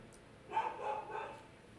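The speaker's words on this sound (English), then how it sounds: "Sorry, that's my dog." A dog barks a few quick, muffled times in the background, faint and somewhat distant indoors, a short burst of yips.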